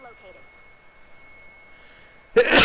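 A single sudden, loud sneeze bursts out at the very end after a quiet stretch, close to the microphone, during a Fortnite gaming session.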